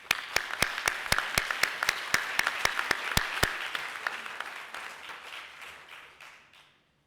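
Parents applauding students at a high school awards celebration, a round of clapping with sharp close claps over a crowd wash that swells, then fades steadily to silence.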